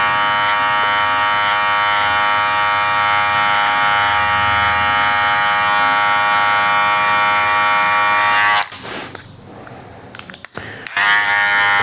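An electric hair clipper with a guard runs through a degradê haircut, making a loud, steady, close buzz with a strong harmonic hum. Near the end the tone drops away into brief, uneven sputters and then returns.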